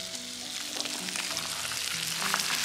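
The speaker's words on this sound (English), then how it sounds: "This fire is so big now." Large campfire crackling close by, dense sizzling hiss with sharp pops and snaps scattered over a steady rush.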